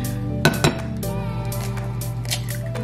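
Eggs and almond flour being stirred into softened cheese in a bowl for keto bagel dough, giving a couple of sharp clinks of a utensil against the bowl near the start, followed by softer steady mixing sounds.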